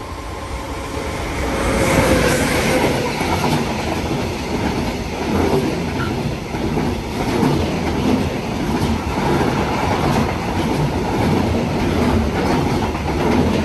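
A train passes through the station at Anzola Emilia in Italy, a loud, continuous rumble with rhythmic wheel clatter and a faint squeal, sustained and close, with no voices over it.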